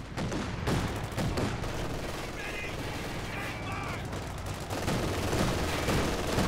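Battle gunfire in Company of Heroes 2 rattles on throughout, a dense mix of rifle and machine-gun bursts over constant background rumble, with a voice talking over it.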